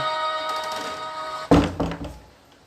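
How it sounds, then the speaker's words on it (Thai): A door swings shut with a single heavy thud and a softer knock just after, breaking a steady background hum before the room settles back to quiet. "ปิดประตูเข้ามา"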